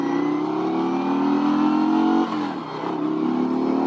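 An Indian Challenger bagger motorcycle accelerates hard with a loud, close engine roar. The pitch rises steadily, dips briefly at a gear change around the middle, then climbs again.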